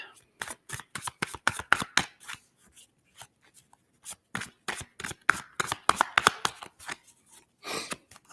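Tarot cards shuffled by hand at a reading, a long run of quick crisp riffles and slaps in uneven bursts with short pauses, close and fairly quiet, with no talking.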